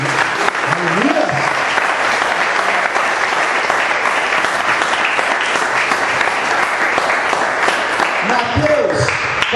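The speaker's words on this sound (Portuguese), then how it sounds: "a igreja poderia aplaudir o Senhor nesta noite." A church congregation applauds during a service for a pastor's ordination, with loud, sustained clapping that fills the room nearly throughout and voices rising within it.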